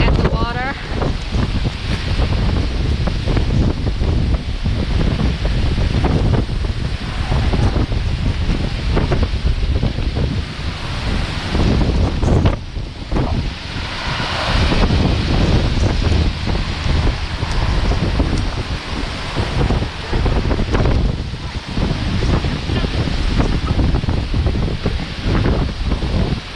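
Strong wind roars and buffets a microphone near rough ocean water and breaking waves at Key West during Hurricane Ian, loud and continuous throughout with a brief lull midway.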